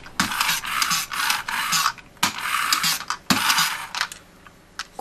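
A McDonald's Happy Set Plarail toy train, an E233 series Chuo Line model, pushed from above along a surface, giving a repeated close scraping, rasping mechanical sound in bursts with short pauses and no talking.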